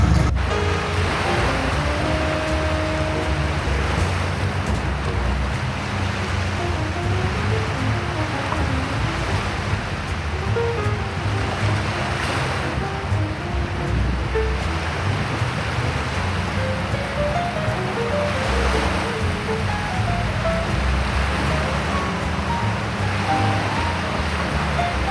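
Waves churn and wash steadily against a ferry's hull from its lowest deck, a continuous loud rushing of water mixed with wind and engine rumble, no voices.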